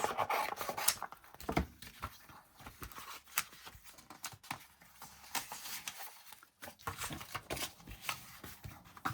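Collage paper pages cut in half with scissors: intermittent rasping, rubbing snips and paper rustles at close range, irregular in rhythm, with no talking.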